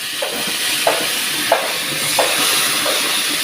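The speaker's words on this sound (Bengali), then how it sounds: "ছোলাটা ভালো করে ভেজে নেব।" Chickpeas frying in a pan with whole garam masala while cooking taro leaves with hilsa fish head, a steady broadband sizzle and hiss broken by a few soft periodic stirring clinks, alone without talk.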